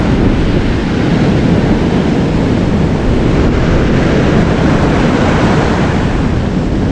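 Loud continuous roar of ocean surf breaking, with heavy wind buffeting the microphone throughout.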